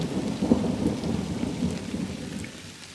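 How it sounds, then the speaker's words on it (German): A light thunderstorm out in the wilderness: deep, rolling thunder rumbles low beneath a steady patter of rain, fairly close, with the rumble easing toward the end and no voices. "Ein leichter Minimalgewitter."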